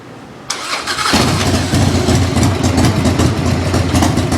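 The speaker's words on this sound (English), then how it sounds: "we're going to start the bike back up" A Harley motorcycle engine cranks and fires up, then settles into a loud, steady rumbling idle close by, with no talking.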